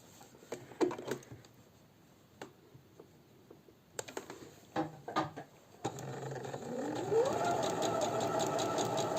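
Sewing machine stitching a handkerchief-style fabric panel, starting with short irregular bursts of needle clatter and then running into a steady, louder whir near the end.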